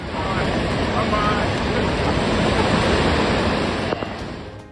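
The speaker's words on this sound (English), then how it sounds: "The water flows are so powerful that they easily swept away cars." A loud, continuous roar of rushing floodwater, dense and unbroken, a powerful torrent surging close by, easing slightly at the very end.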